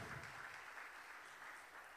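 Audience applause for a Vice Minister at a public event in Vaccarizzo Albanese, a faint but even patter of many hands clapping, distant and steady for about two seconds.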